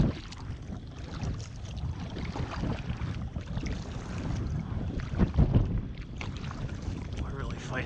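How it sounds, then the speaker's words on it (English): Wind gusts across the microphone on the St. Lawrence River during kayak fishing, a rough, rumbling buffet that swells and fades, heaviest near the end, with light water movement underneath. "We're really fighting that wind."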